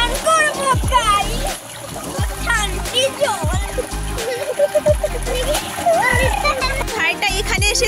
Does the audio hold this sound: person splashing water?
yes